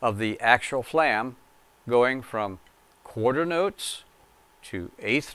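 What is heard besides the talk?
No distinct noise like a dog, phone or traffic.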